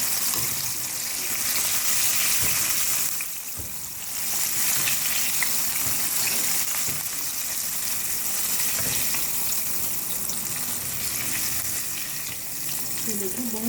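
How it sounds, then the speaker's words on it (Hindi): Chicken broast pieces deep frying in hot oil give a steady, loud, dense sizzle and bubbling hiss that continues throughout, with a brief dip in intensity partway through. "बाकी जो चिकन पीसेस हम फ्राई कर रहे थे वो भी फ्राई हो चुके हैं"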